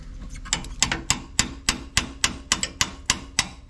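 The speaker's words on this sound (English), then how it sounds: "You can tap just like that, just very gently, if you wish." Gentle metal tapping on an A/C condenser part of an Isuzu NPR truck, about a dozen light, crisp taps in an uneven rhythm, close and fairly clear with no talk.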